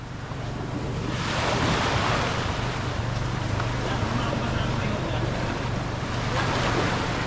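Rough sea waves surging and crashing steadily around a boat, with loud continuous surf and wind noise on the microphone filling the whole stretch.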